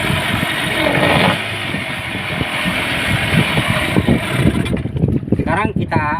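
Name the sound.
Yamaha 15 hp outboard engine restarted and running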